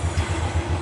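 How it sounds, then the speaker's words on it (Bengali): A Royal Enfield Classic 350 motorcycle's self-starter cranks in a rapid low rhythmic churn, close and loud, with no voices. "এই যে আওয়াজটা করে সেলফ মারলে পরে।"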